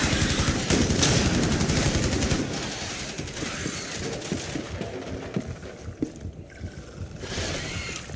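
Gunfire in the video game Rainbow Six Siege, Outbreak mode: a dense, loud burst of rapid automatic fire that gives way to scattered shots and impacts, with no talk.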